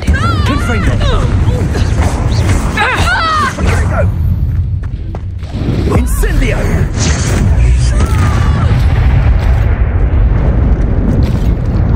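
Fiery Confringo spell blasts in Hogwarts Legacy, booming thuds and crashing impacts over a dense, continuous game mix, with voices speaking throughout.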